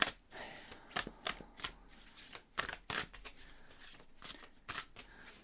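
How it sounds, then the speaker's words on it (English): Tarot cards being shuffled in hand, a run of sharp riffling bursts and flutters at an uneven rhythm, close and fairly quiet, with no voices. "So I'm going to shuffle in the same way as I have just done there."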